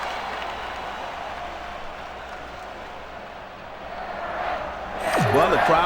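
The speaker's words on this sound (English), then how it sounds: "Well, the crowd's all excited" A ballpark crowd in the PS2 baseball game MLB 2K6 keeps up a steady, broad roar during a game, with a commentator's voice and a louder swell rising near the end.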